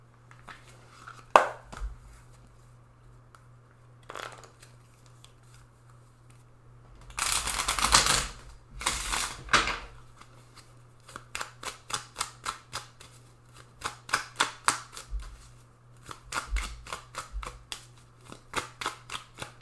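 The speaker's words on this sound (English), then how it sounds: "I have some Secret Garden Oracle that I'm going to shuffle" Secret Garden Oracle cards are shuffled in close, crisp bursts of riffling and slapping, first a few isolated snaps, then a dense noisy flurry, then a rapid run of rhythmic flicks.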